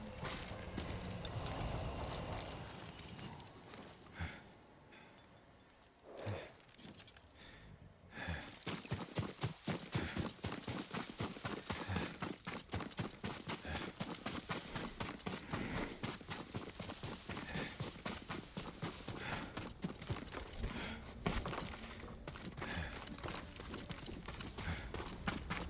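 Horse hooves clip-clop in the video game Ghost of Tsushima, a few scattered steps over quiet ambience, then a steady, fast, close rhythm of hoofbeats that continues to the end.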